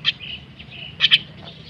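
A pet myna bird being trained to come when called gives short, sharp, high chirps: one at the start, then a quick close pair about a second later, over a quiet low background.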